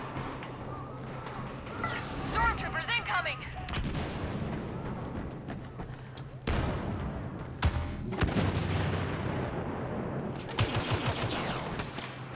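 Dense blaster gunfire and booming blasts in Star Wars Battlefront (2015) at the Imperial Hangar, loud and continuous with sharp bursts throughout, under occasional talk.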